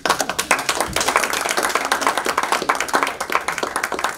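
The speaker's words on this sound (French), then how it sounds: "nous devrions l'applaudir" An audience at a formal francophone gathering applauds, a dense stream of many hands clapping at a brisk, slightly uneven patter that stays steady and close throughout.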